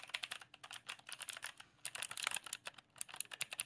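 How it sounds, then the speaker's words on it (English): Fingers tap rapidly on a computer keyboard picked up by a cheap desktop microphone, a dense run of close clicks with short pauses, no talking. "I'm typing right now."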